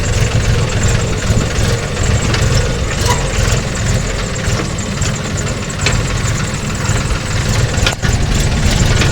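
A tractor engine idles steadily and loudly close by, a dense, continuous mechanical rumble with a faint knocking texture that carries through the whole stretch without a break.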